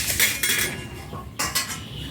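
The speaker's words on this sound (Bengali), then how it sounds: "মাংসটা প্রথমে এক পাত্রে নিয়ে নেব।" Boneless chicken pieces are moved into a bowl with metal utensils, producing close clinks and scrapes of cutlery against the dish in a few quick bursts.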